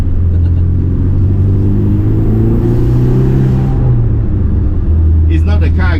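A 1975 BMW 2002 Tii Turbo race car lugging in fourth gear on a mountain road, a loud close low rumble with the engine note slowly rising then dropping, with cabin noise and speech over it.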